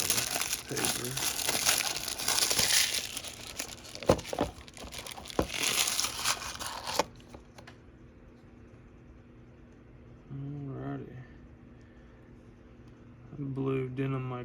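Close paper crinkling and rustling as a Rough Ryder knife with denim micarta handle is unwrapped, loud and dense for several seconds before quieter rustles; someone talks briefly in between.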